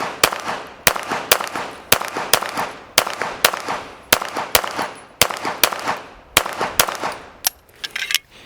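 A string of loud, close gunshots at a shooting practice target before a major match, about a dozen sharp cracks spaced roughly evenly a second apart, each with a short ringing tail, and no talking.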